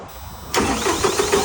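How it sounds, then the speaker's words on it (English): A 12,000 PSI jetter's engine cranks and fires up after a short quiet stretch, then runs loud and steady close by. "Engine safety delay 4, 3, 2, 1. It's going to fire up."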